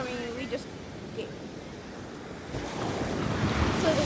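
Ocean waves wash onto a sandy beach, a steady surf wash with wind buffeting the microphone, swelling louder toward the end.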